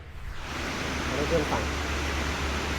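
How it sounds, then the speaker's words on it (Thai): A small fan inside a fan-cooled work shirt, worn during car paint coating, blows air in a steady, broadband hiss that runs continuously under a man's brief speech. "มันมีพัดลมเป่าอัดอากาศอยู่ตอนนี้นะครับ"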